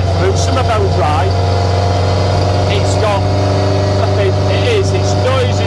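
A Ford Escort Mk2 driven hard on a road, giving a loud, steady, droning engine and road roar that runs unbroken, with brief rising and falling whines from gear changes and revs.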